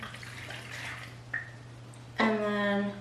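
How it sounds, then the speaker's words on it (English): Water poured into the bowl of a cake pop maker, a brief close splash followed by a short ringing, bubbling pour over a low steady hum. "So I'm going to pour my water in."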